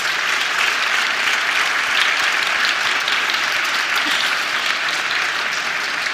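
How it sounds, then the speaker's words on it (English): Loud, sustained applause from a large audience at a children's book fair prize ceremony in Bologna, dense and even clapping throughout without any voices on top. "an applause to the team, please."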